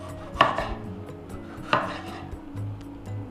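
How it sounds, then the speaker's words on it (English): Chopping fresh jalapeño peppers with a knife on a cutting board for chicken quesadillas, heard as two distinct knife strikes about a second apart over a low kitchen hum, with no talking. "So first we're going to start off by chopping up all of our fresh peppers."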